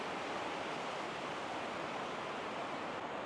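Deep river rushing near Latrigg in the Lake District, a steady, dense broadband roar of flowing water heard continuously and fairly close.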